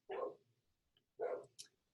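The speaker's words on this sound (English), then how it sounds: "I think it does to my dog if you hear him barking." A dog gives two short, sharp barks about a second apart, faint and somewhat distant, with a brief higher yip after the second.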